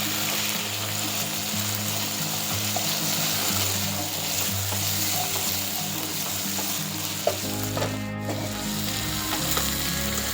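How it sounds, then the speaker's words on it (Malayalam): Green chillies, garlic and bird's eye chillies sauté in hot oil in a pan for a mango-ginger pickle, giving a loud, continuous close sizzle with occasional stirring scrapes and no voices. "പച്ചമുളകും വെളുത്തുള്ളിയും കാന്താരിയും നന്നായി വഴറ്റി"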